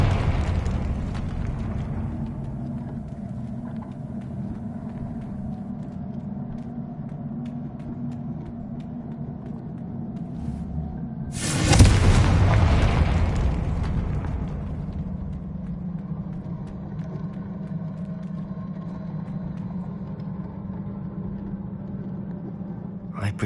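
A single Confringo fire spell blast in Hogwarts Legacy erupts with a loud, sharp burst a little before midway, trailing off into a rumbling decay over a steady low game ambience.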